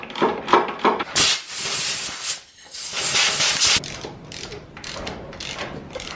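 A hand ratchet spins out the 12mm bolt holding a speedometer gear, its rapid pawl clicking coming in close, loud bursts separated by brief pauses, with no talking.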